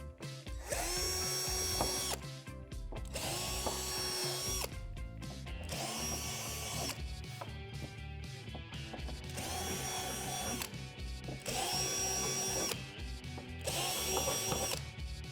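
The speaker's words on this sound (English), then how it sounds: "drill out the 3 holes on both sides with a 1/4-inch drill bit" A power drill with a 1/4-inch bit runs in repeated bursts, whining up and biting through a playset panel six times with brief pauses between, close and loud.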